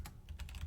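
Fast, close typing on a computer keyboard while code is entered into a constructor: a rapid cluster of soft key clicks, quiet and alone.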